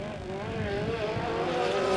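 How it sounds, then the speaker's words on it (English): Dirt Legend race cars roar around a dirt speedway in a short burst of engine noise, a rising, wavering whine of revving motors that grows slightly louder as the cars pass, without voices. "White flag in the air, one lap to go for your leader, Justin Cromer."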